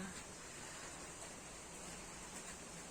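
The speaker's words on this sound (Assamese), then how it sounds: "আজি ইয়াত বৰষুণ দি আছে, কিনকিনীয়া বৰষুণ" Soft, steady patter of light rain, a continuous fine hiss with no other sounds standing out.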